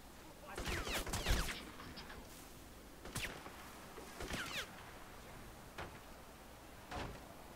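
Unsilenced gunshots in a modded tactical shooter, a quick cluster of sharp cracks followed by several isolated single shots spaced seconds apart, fairly close over quiet background.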